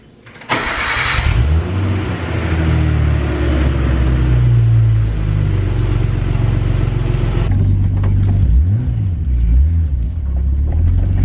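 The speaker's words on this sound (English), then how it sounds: "we gotta get a little bit of a cold start" A swapped-in RB engine in a Datsun 280Z cranks and catches on a cold start, then settles into a loud, steady idle that rumbles close by, with a brief rev and dip near the end.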